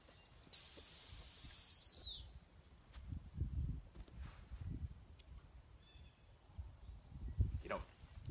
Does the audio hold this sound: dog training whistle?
yes